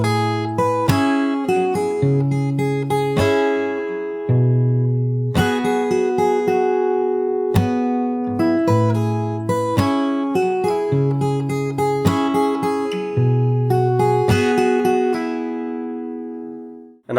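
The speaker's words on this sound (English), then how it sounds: "So if I play the entire pre-chorus, it sounds like this" The pre-chorus of a song is picked fingerstyle on guitar, bass notes and melody ringing in repeated phrases with brief pauses between sections, close and clean, then fading at the end.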